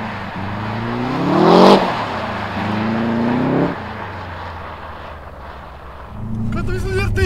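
A Subaru Impreza STI drives on snow, its engine loud and close as it rises and falls in pitch through revs, while people talk excitedly over it.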